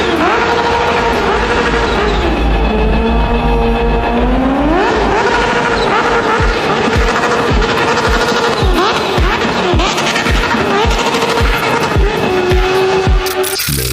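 A Kawasaki Ninja H2 motorcycle engine revs loud and close, its pitch climbing and settling in repeated surges over a continuous throaty roar.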